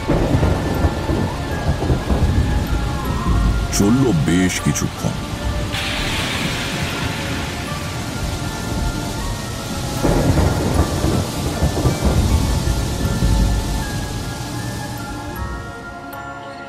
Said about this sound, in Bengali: ঝড় থেমে গিয়ে বৃষ্টি নামল।